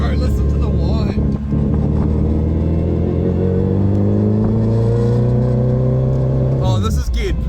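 A Toyota Corolla with a swapped-in Hayabusa motorcycle engine accelerates hard, heard from inside the car. A loud, close engine drone and whine climbs steadily in pitch for several seconds before easing off near the end.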